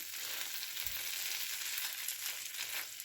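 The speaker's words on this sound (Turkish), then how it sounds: "Buradan bunu da öbür tarafını da tereyağıyla kızartacağız" Steady, bright sizzling of toast frying in butter in a pan, an even crackling hiss that continues throughout with no voices.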